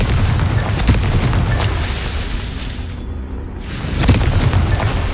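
A Confringo blasting curse exploding in Hogwarts Legacy: loud, rumbling booms that swell, ease off midway, then surge again, with crackling debris over a heavy low roar.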